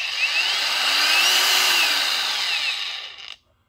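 A cordless 20-volt Wakyme angle grinder with no disc fitted spins up with a slow, rising high-pitched whine. It holds a loud steady scream for a few seconds, then cuts off abruptly into silence.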